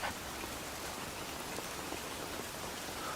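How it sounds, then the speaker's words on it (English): Steady rain falls on a wet day in an outdoor period drama scene, a dense, even hiss of drops that holds at the same moderate level throughout, with no voices over it. "'Tis a wet day and no mistake."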